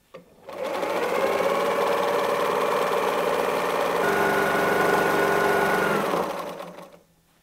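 A domestic sewing machine stitches free-motion quilting on a small quilted bread basket, running as one steady, close whir for about six seconds before winding down, with no talking.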